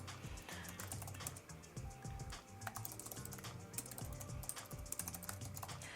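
Fingers type rapidly on a computer keyboard, a dense stream of close, crisp key clicks with brief pauses and a few louder strokes, fairly quiet overall.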